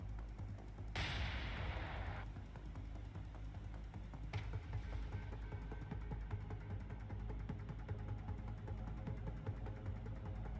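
Naval guns firing in the naval combat game War on the Sea: a loud broadband blast near the start with a decaying rumble, then a second sharper shot, all over a constant low engine drone.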